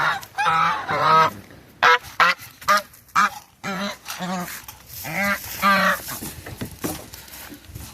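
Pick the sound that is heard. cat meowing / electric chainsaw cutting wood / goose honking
goose honking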